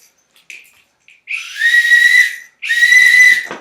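A couple of short test peeps, then two long, loud whistle blasts close by, with a brief gap between them, a sailboat race start signal.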